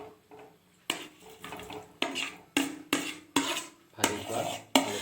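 Fried potatoes go into a pot of curry with peas and are stirred, giving a series of sharp clanks and scrapes of a utensil against metal in an uneven rhythm, fairly quiet and close.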